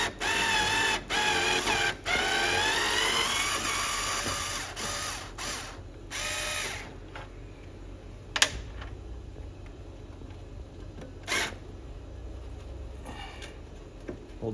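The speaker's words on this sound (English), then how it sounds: "there's two screws down here underneath the trim tab that hold that bracket in. I'm just going to back these screws out" A tool backs out trim tab bracket screws on a 1984 Chris-Craft Catalina 381, giving a few sharp clicks and short ratcheting bursts close by, spread across quiet stretches after a louder whirring opening.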